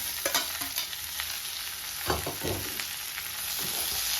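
Broad beans sizzle in hot tempering oil in a pan while a utensil scrapes and stirs in uneven strokes, close by, with no one speaking.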